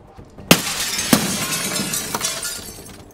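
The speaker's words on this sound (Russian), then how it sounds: "Слышу, где стекла разбил?" Glass breaks in the video game Escape from Tarkov with a sharp, loud shatter, a second crash about half a second later, then a fainter third break amid tinkling debris.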